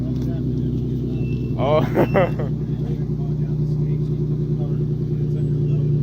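A Nissan 300ZX with a straight-pipe exhaust idles at close range in a deep, steady, throbbing rumble, while a person briefly exclaims partway through.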